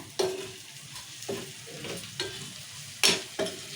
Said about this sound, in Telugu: శనగపప్పు రెండు నిమిషాలు నూనెలు ఉడకాలన్న కదా మంచిగా నూనె ఉడుకుతుంది